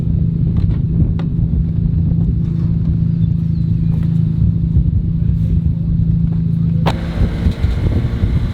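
A Honda S2000 drives off a trailer at a track day, its engine a steady, loud low rumble held close throughout, with wind buffeting and faint voices underneath.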